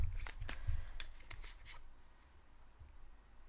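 Tarot cards being shuffled in a deck, with a short run of crisp riffling flutters and soft slaps near the start, fading to quiet handling near the end. No voices.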